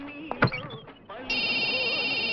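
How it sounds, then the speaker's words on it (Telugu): A telephone in a room breaks in with a loud, steady, shrill electronic ring that keeps going after a brief stretch of voices and movement. "ఫోన్ సార్, ఫోన్ తీయండి."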